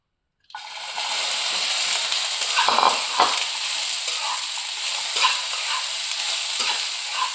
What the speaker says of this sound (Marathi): आता ही जरासं तेल सोडून, कढईमध्ये थोडंसं तेल सोडून त्याच्यावरती भाजून घ्यायची आहे छानपैकी